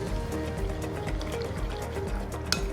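Water is poured into an instant paneer jalebi batter and stirred until smooth. The result is a steady, close liquid splashing and churning that runs the whole time with no talk.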